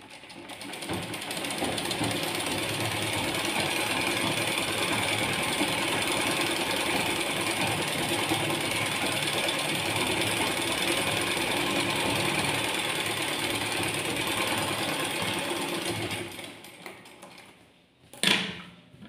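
A sewing machine stitches an aari-work blouse, running close and steadily with a busy mechanical clatter for about sixteen seconds. It then winds down, and a brief knock follows near the end.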